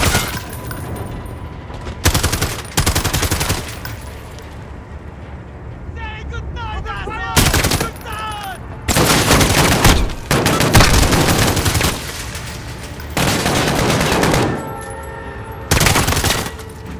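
Repeated bursts of automatic gunfire from a weapon in the PC game Call of Duty: Modern Warfare, loud close blasts broken by short gaps, with a player talking excitedly between and over the shots.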